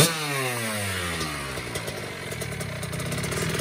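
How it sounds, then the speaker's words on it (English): A Kawasaki KX85 two-stroke dirt bike engine runs loud and close, its buzzing, raspy note revving and settling, with no talk over it. "KX85 Kawasaki. It's sweet. Two stroke. Thing is loud. It's really, really loud."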